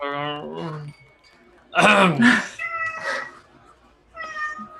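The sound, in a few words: voice imitating a plaintive cat meow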